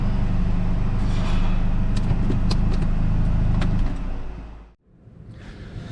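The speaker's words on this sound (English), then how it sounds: "I did a dyno pull to see how much power it makes." A VW MK5 GTI with DSG gearbox roars on a dyno during a power pull, a loud, sustained engine drone that holds steady, then cuts off abruptly near the end before a quieter rumble resumes.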